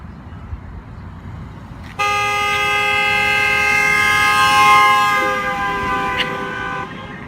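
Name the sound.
train passing with Doppler effect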